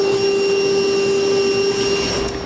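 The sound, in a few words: vacuum cleaner sucking up metal shavings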